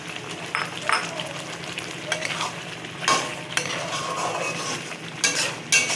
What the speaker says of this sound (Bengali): চিংড়ি মাছটা দিয়ে দেবো, দিয়ে এটাকে আরেকটু ভালো করে কষে নেব।